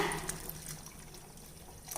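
Water pours steadily into a pot of sambar at close range, a soft continuous splashing trickle with no talking.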